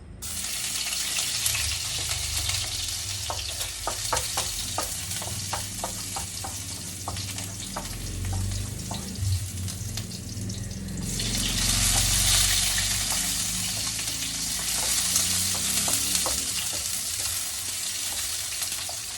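Garlic and onion sautéing in a pan for ginisang pechay with corned beef, a steady loud sizzle with scraping stir strokes, growing brighter and hissier partway through as more hits the hot oil; no talk.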